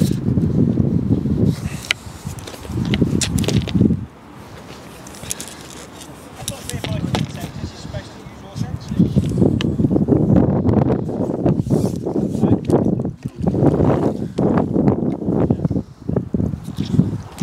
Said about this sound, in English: It's got really, really windy now,